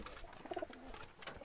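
Pigeons cooing indoors, a short soft burst of throaty coos near the middle over faint background noise.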